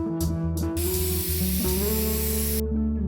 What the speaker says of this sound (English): She is cooking.